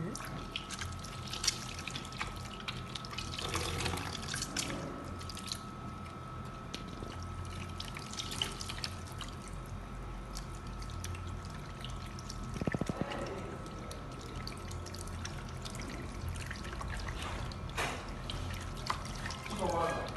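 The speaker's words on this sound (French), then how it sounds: "Doucement, on va mettre de l'eau." Water is poured for washing in a kitchen during rice preparation, a steady low splashing trickle that runs throughout under a person's intermittent speech.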